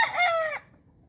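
A rooster crows close by, a loud harmonic call that cuts off abruptly, leaving faint background hum.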